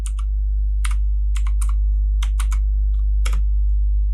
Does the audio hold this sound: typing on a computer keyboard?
yes